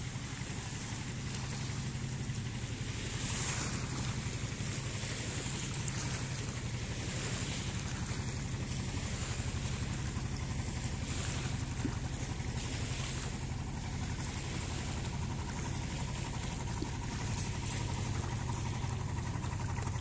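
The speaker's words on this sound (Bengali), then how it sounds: "এই যে দেখেন বিশাল এক ঢেউ সৃষ্টি হয়েছে," A small powered boat passes on the Padma river, its wake sending waves slapping and washing steadily throughout, with constant wind rumble on the microphone and no talk.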